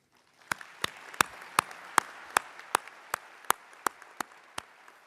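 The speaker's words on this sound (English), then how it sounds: "So please join me in a round of applause to recognize John Carlson with the College of Design's Design Achievement Award." An audience at an honors and awards ceremony claps after a design achievement award, though the claps come as single sharp, evenly spaced strikes, about a dozen over a faint room hum, rather than a dense crowd.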